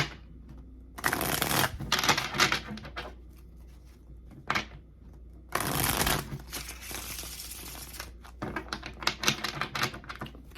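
Tarot cards being shuffled by hand at close range for a Gemini reading, in two long riffling bursts with a shorter flurry near the end, separated by quiet pauses.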